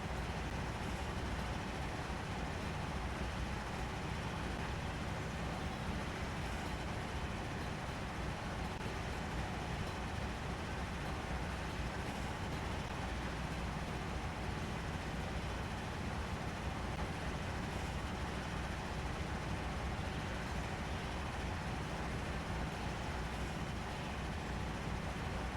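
A freight train running in the video game Train Sim Pro USA, hauled by RC-44 and E-38 units, a continuous loud rumbling drone that stays steady and unbroken throughout.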